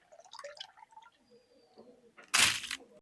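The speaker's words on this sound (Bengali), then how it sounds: "প্রথমে আমি আলো চাইল ধুয়ে নিছি।" Rice being washed in water: soft drips and small sloshes, then a brief louder rush of splashing water near the end, close by.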